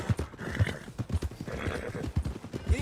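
Horse hooves clip-clop in a steady gallop rhythm with a whinny, from Red Dead Redemption 2, the rider's horse carrying him toward the stables, close and fairly loud throughout.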